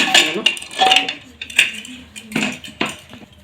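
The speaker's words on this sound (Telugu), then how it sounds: "చూడండి కుక్కర్ మూత" A metal pressure cooker lid handled in a kitchen while cooking a Rathasaptami dish, loud close clanks and scrapes of metal on metal in several separate knocks.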